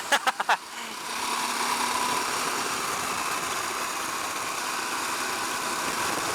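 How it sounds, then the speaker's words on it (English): A KTM 890 Adventure R motorcycle engine held at wide open throttle while riding: after a few brief clicks, a steady, sustained engine drone mixed with rushing wind noise runs to the end. "Oh, that's a wide open throttle right there"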